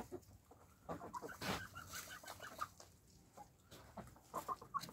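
Chickens in a winter coop cluck softly and repeatedly, several birds overlapping in short, scattered calls against a faint, quiet background.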